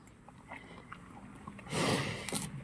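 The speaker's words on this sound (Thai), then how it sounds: "อ่ากัดกินทีละลูก ดึงออกไปทีละอัน" A Thai buffalo bites and chews bananas close up, with soft crunching and mouth sounds that swell into a louder burst of chewing near the end.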